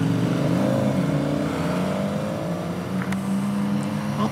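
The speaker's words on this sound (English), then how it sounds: "Let's get some revs. It sounds totally better than mine." A car engine revs loudly and steadily at close range, with harmonic engine tones rising and shifting over a constant low rumble, no speech.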